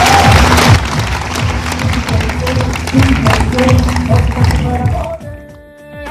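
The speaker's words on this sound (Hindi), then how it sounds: "पर जोरदार ताली हो गया मेरी पूरी टीम के लिए" Loud applause from a crowd cheering a team at a Safe Shop business event rises as a dense, steady clapping roar over music and voices, then fades away near the end.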